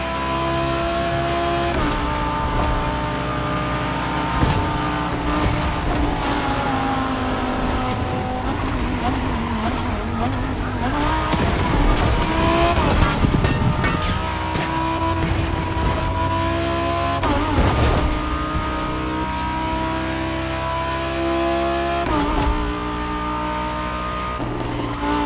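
Lamborghini Performante race car driving in The Crew Motorfest, engine roaring continuously at high revs with gear changes and tire noise, loud and close throughout.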